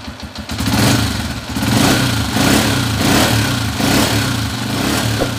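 A Honda TMX 125 Alpha motorcycle engine, just tuned up, runs loud and close, revving in steady repeated swells with a strong low rumble throughout.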